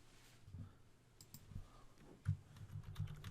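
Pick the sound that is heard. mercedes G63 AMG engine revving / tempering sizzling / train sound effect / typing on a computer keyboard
typing on a computer keyboard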